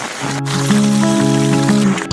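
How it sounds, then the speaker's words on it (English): Heavy rain pours down as a loud, continuous hiss of water. A steady humming tone sits over the downpour for the whole two seconds. "it's pouring the rain"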